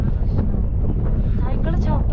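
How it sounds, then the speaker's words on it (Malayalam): Cold wind on a snowy uphill road during a long-distance Kashmir-to-Kanyakumari bicycle ride batters the microphone in a constant low rumbling roar, with a person talking over it. "തണുപ്പും തണുത്ത കാറ്റും"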